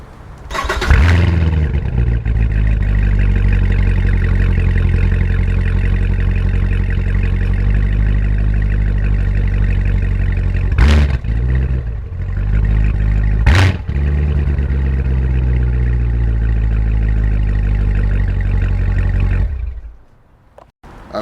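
A 2016 Chevrolet Corvette Z06 engine cranks and fires up loudly, then settles into a deep, steady idle with two sharp, brief revs in the middle before cutting off at the end.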